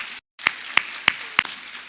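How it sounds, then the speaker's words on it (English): Sparse, evenly spaced claps, about four sharp hits in a steady rhythm, from an audience at a maternal health convening, fairly faint and following a brief silence. "let's give them one more round of applause"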